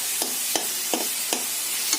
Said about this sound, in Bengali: ঘন ঘন আমরা নেড়ে যাব মিশ্রণটিকে